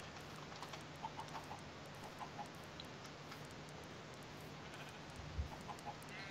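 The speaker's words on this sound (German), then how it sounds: "Geht doch weg, Schaf." Faint Minecraft game audio with a sheep mob nearby, soft bleats and clucks from chickens scattered over a quiet ambient background, no talking.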